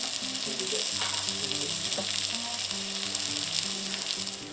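Sandhill crane breasts with a peppercorn crust sear in a hot pan, giving a loud, steady crackling sizzle that runs without a break and fades slightly at the end.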